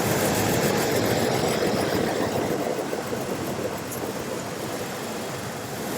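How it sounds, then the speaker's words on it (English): A car engine idling roughly with a suspected blown head gasket, a dense, close rumble with a slightly uneven, chugging texture and no voices. "Engine's running."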